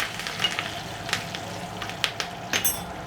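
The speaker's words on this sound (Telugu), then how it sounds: "కరివేపాకు వేసి తాలింపేస్తా" Curry leaves and seeds crackle and sizzle in hot oil for a tempering, a low frying hiss broken by sharp pops and spits.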